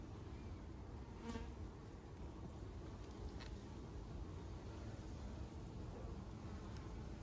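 Honey bees humming continuously around an open hive during a queen transfer, a dense steady drone with a few louder passes of individual bees, fairly faint and alone.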